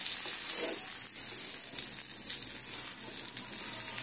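Whole garam masala and bay leaves sizzle steadily in hot oil in a kadai, a continuous bright frying hiss throughout with no talk.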